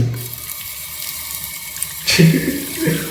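Tap water runs steadily into a bathroom basin while a hamster is bathed, a close continuous splashing that swells louder near the end, with no voices.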